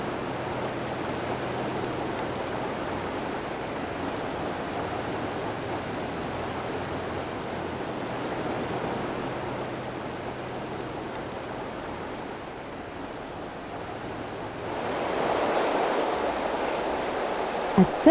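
Steady rushing water of the Dunajec River rapids in a Polish national park, a continuous broadband roar with no talk that swells louder near the end.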